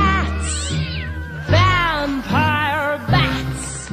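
Cat meows sung within a Halloween children's song about big black cats, several drawn-out, pitch-bending meow-like tones over steady musical accompaniment, loud and close.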